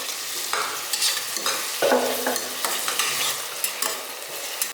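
Tomatoes added to sautéed onions fry and get stirred in a pan, a steady close sizzle broken by repeated scraping stir strokes, with no talk.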